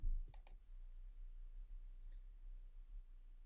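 Computer mouse clicks during an online form walkthrough: two quick sharp clicks near the start, then a fainter single click later, over a quiet low hum.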